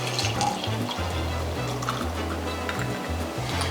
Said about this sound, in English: Once cool, pour into the jar.